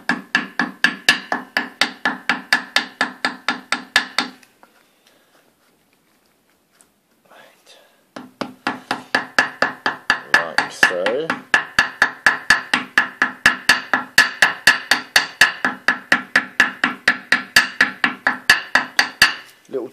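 A small ball peen hammer taps holes into a gasket in a quick, steady rhythm of light knocks, pausing briefly near the start and then carrying on close and clear, with faint murmuring underneath.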